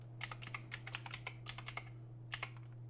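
Quiet, close keyboard typing in irregular bursts of light clicks with short pauses, over a steady low electrical hum and no talking.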